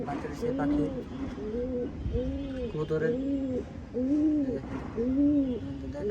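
Pigeons coo in a repeating rhythm of soft, rounded calls, close by at a nest with a newly hatched chick indoors at home, with a voice murmuring underneath at times.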